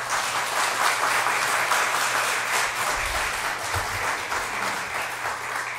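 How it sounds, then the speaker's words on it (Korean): Sustained crowd applause fills a church sanctuary during a Sunday afternoon worship service as the pastor comes forward, a dense steady clapping with a low murmur of voices beneath it throughout. "우리 목사님 나올 때 박수로 환영하겠습니다"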